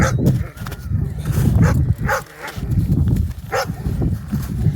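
Several dogs bark and yip in a noisy outdoor scene, the barks coming in short bursts over a steady low rumble.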